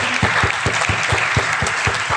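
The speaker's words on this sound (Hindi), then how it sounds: "उनके लिए तालियां बजाएंगे" Audience applause at the Royal Premier Club Mega Manthan event in Lucknow, a steady crowd of clapping hands with rhythmic, distinct claps standing out, sustained and fairly close throughout.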